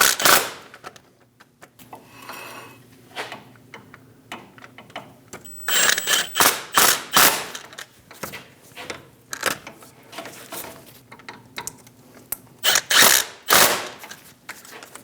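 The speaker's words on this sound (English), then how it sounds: "Go around and snug down all the bolts." A ratchet snugging down bolts while a front CV axle is fitted on a 2001-2006 Chevrolet Silverado 2500 HD, with sharp clicking bursts in irregular runs and pauses, close and clear, no talk.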